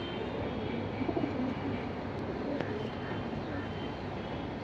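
Soft pigeon cooing in a steady noisy background, faint and somewhat distant, with a continuous low hiss throughout.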